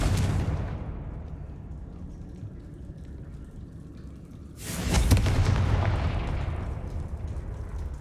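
A Confringo fire spell explodes in the Hogwarts Legacy video game, a rumbling blast that fades into a low roar, then a second sharp, loud burst midway that leaves a sustained crackling rumble.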